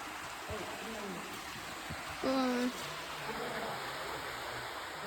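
Waterfall at Turkey Run State Park, a steady broadband rush of falling water filling the background throughout, with people talking briefly over it.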